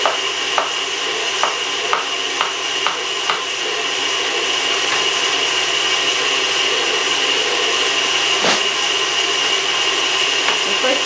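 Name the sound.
slicing bananas with a knife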